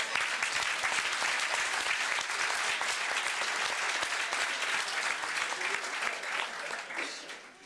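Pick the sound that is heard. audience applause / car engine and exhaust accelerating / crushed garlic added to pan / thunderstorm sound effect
audience applause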